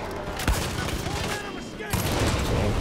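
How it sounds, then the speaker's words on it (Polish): Gunfire and an exploding barrel in the shooter game Far Cry 5, a dense fusillade of rapid shots with sharp louder cracks and a booming burst, continuous and close throughout with faint voices mixed in. "Piękny strzał."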